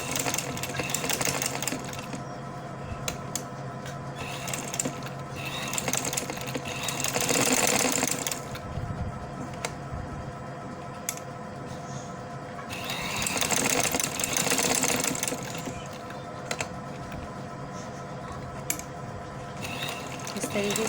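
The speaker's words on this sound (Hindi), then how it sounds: "इसे हम इस तरीके से इस पे स्टिच कर देंगे थोड़ा थोड़ा फासले से।" A sewing machine stitches fabric pieces onto a trouser in quick whirring bursts of a few seconds each, separated by quieter pauses filled with handling noise and someone speaking.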